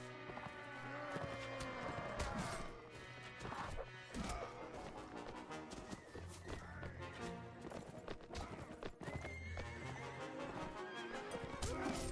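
Horses neigh and whinny repeatedly amid a busy battle in Mount and Blade Warband, with clattering hooves, crashes and thwacks of combat layered densely throughout.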